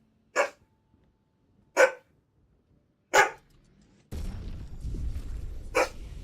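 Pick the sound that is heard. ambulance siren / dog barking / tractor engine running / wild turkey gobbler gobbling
dog barking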